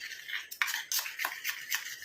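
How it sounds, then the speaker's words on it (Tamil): A homemade mustard hair dye mixture is stirred in a small bowl: several soft, brisk scraping strokes come close together, close and fairly quiet, with no one speaking. "நல்லா கலந்து விட்டுருங்க. கொஞ்சம் கூட கட்டிகளே இருக்கக்கூடாது"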